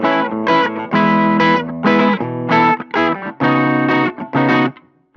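Warm, slightly distorted electric guitar through a tweed amp simulation on a Boss IR-2 plays a choppy chord riff in short bursts with brief gaps, loud and close, ending on a fading chord.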